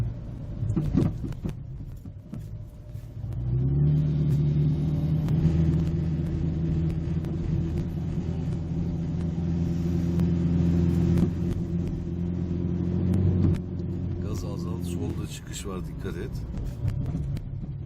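Inside a car during a driving lesson on a city road, the engine rumbles up steadily under acceleration, a low sustained drone that holds for about ten seconds before easing off, with the instructor talking over it.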